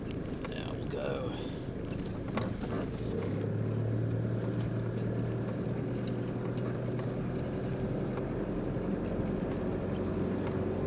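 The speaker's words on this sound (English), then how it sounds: "Bit of off-roading to start with." A 4WD vehicle rolls along an off-road trail, with a steady low engine drone, creaks and rattles running throughout, and knocks and thumps of the body over rough ground.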